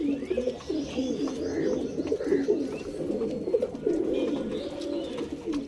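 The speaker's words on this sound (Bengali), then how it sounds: "প্রত্যেকটা পায়রা দেখে নিন এখানে" Domestic pigeons coo continuously at close range, a low, throaty, overlapping burble from several birds, with faint chirps now and then.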